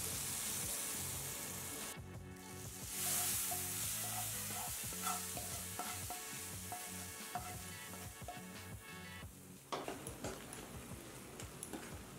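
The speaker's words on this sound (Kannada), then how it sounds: "ಇದೇ ಬಿಸಿಯಲ್ಲೇ ಫ್ರೈ ಆಗುತ್ತೆ." Roasted chiroti semolina frying in ghee in a hot pan for pumpkin (ash gourd) halwa, a steady close sizzle with stirring clicks and scrapes, briefly quieter near the end before picking up again.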